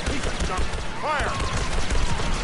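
Rapid blaster fire from a Star Wars video game rattles under chaotic game sound effects, with a voice talking over the volley.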